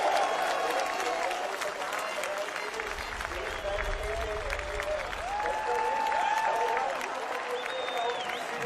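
Trackside crowd at the Assen motorcycle Grand Prix cheering and applauding Valentino Rossi after his victory, a sustained loud roar of clapping and shouts, with air horns and a commentator talking over it.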